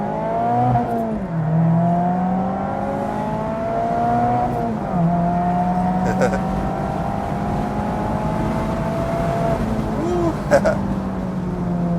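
Engine of a Mazda Miata ND3 or Honda S2000 AP1 held at high revs during a burnout, a sustained droning note that rises and dips with throttle changes, heard from inside the car with a few brief knocks.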